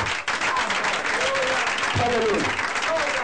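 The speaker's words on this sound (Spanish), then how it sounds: "Denle un aplauso al Señor." Sustained, full applause from a church congregation during a sermon, loud and continuous, with voices calling out over the clapping.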